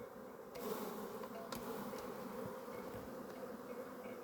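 Honeybees buzz at a hive during an autumn honey harvest, a dense, continuous drone from many insects, fairly faint and steady, with a few louder individual bees passing close.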